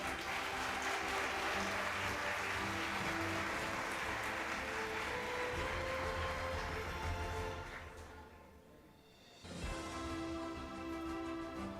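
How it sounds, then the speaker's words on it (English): Applause from an auditorium audience at an international conference, a sustained, even roar of clapping that swells, fades briefly near the end, then resumes with a low hum under it. "Big round of applause."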